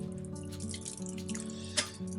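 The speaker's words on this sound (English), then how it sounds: "I try to pour my liquids outside, let it drip on the ground" Coffee drips from a vintage camping pot onto the ground at a winter hot-tent campsite, a soft steady trickle of drops with a low hum of background noise.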